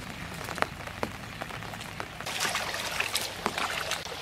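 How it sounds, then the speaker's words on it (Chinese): Light morning drizzle falls outdoors beside a drainage ditch, making a faint soft patter with scattered single drips and a slightly fuller wash of rain in the second half. "下着毛毛细雨"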